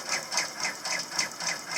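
A new Brother embroidery machine stitching in a steady, rapid rhythm, about two mechanical pulses per second, close and even, with nobody speaking.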